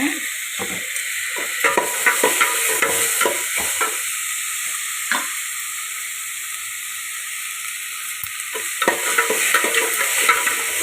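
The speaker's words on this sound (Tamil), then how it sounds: "தக்காளி நல்லா வதங்கட்டுங்க தக்காளி நல்லா வதங்கிடுச்சுங்க" Tomatoes sautéing in a hot pan, a continuous hissing sizzle broken by irregular scrapes and stirs of a ladle, close and fairly loud, with a quieter stretch of plain frying in the middle.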